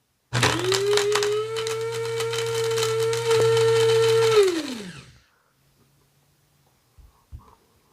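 Homemade grinder spinning up to chop fly-tying ice dub, a loud steady motorized whine for several seconds before winding down, followed by a couple of faint clicks.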